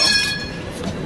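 Train passing along a busy street in Turkey, a steady rumbling roll with thin high metallic squeal tones from the wheels early on, heard close and continuous for about a second.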